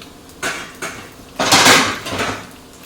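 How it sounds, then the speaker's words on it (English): Spinach tossed with bacon in a metal pan on the stove, with a few clattering scrapes and clanks of utensil against pan, the loudest knock in the middle, close and alone. "And now I'm just going to literally lightly toss up my spinach"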